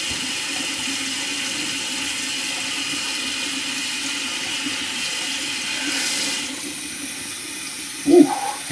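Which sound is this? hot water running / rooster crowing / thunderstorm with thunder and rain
hot water running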